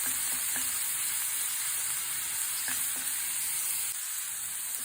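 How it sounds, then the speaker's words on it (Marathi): Green chillies sizzle in a hot pan on medium heat, a steady close frying hiss with a few soft clinks of a spoon stirring them around. "अगोदर थोड्याशा मिरच्या अशा मध्ये भाजून घेऊयात, परतून घेऊयात।"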